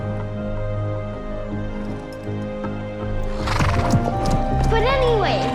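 A horse neighs loudly with a rising and falling whinny in a scene from the horror film Gretel & Hansel, after hooves clip-clop over a low music bed and dialogue earlier in the scene.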